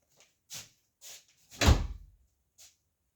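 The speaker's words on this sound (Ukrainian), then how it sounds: "Ану там двері закриють." An indoor door closes with one solid, fairly loud thud midway, preceded by a few lighter knocks and clicks and followed by a faint tap, with no talking.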